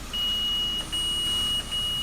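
A car wash's high, steady electronic beep repeats in long tones with brief gaps, sounding over a constant low mechanical hum.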